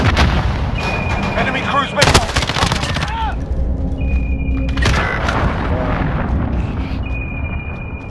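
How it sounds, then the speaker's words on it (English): A cruise missile strike in the Call of Duty Modern Warfare video game, with heavy booming explosions and rattling gunfire layered over one another, loud and continuous with sharp blasts near two and five seconds. "Cruise missile!"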